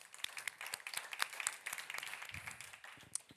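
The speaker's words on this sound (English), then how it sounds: "Round of applause" A conference audience at a recycling event gives a round of applause, scattered claps from a modest group, fairly quiet and uneven, with a few low murmurs under it.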